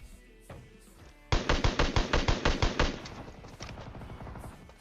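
A rapid burst of automatic gunfire in PUBG Mobile, about a dozen sharp evenly spaced shots, loud and close, followed by fainter clattering.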